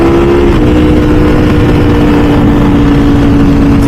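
A Ducati V4 SP2 sport motorcycle with a race exhaust exiting under the tail rumbles loud and close, a deep steady exhaust note that dips briefly then settles into an even idle-like drone.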